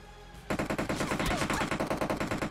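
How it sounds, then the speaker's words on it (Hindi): Automatic rifle fire in the mobile battle royale game PUBG Mobile, a loud sustained burst of rapid shots that breaks in after a short quiet moment and rattles on steadily until the end. "और कोई पीछे से फायरिंग कर रहा था"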